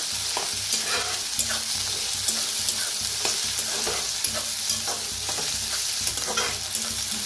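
Onion and spring onion with curry leaves roast in a hot pan, a steady sizzle broken by frequent scrapes and clicks of a spoon stirring, close and fairly loud with no talking.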